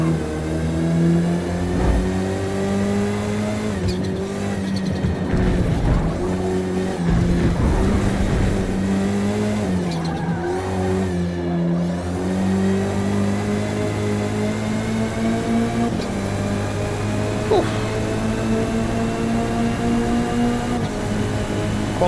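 A touring car engine racing in Forza Motorsport on Xbox Series X, droning steadily at high revs and climbing through gears with repeated shifts and brief lifts, loud and continuous throughout.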